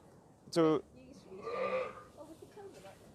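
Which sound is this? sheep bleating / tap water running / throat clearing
sheep bleating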